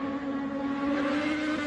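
A motorcycle roars past at high speed on a road, its engine a loud, steady whine that holds for the whole moment with no voices over it.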